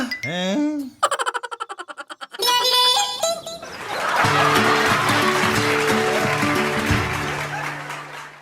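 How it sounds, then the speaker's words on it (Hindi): Comic cartoon sound effect of a car swerving and crashing into a tree: springy boing-like wobbling tones and a quick rising whistle, then a loud crash that settles into a long, noisy rattling tail. "गाड़ी लहराती हुई एक पेड़ से टकरा जाती है।"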